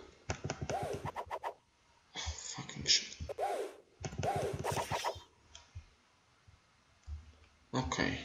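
Rapid mouse clicking from a player in an Attack on Titan tribute game patters in quick runs under frequent excited talk from the player.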